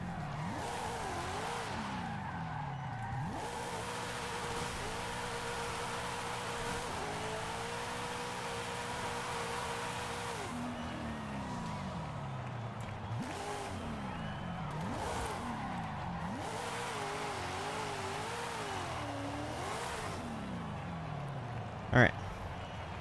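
A Forza Horizon 5 car drifting, its engine note rising and falling in sweeping revs with continuous tire squeal and skidding, a brief sharp click near the end; someone talks over it.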